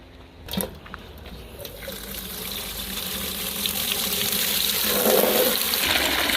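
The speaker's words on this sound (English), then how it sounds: "I'm going to fill this thing up until the turkey is submerged." Water gushes steadily into a turkey fryer pot, a broad rushing pour that grows slightly louder and fuller as it fills, with no one speaking.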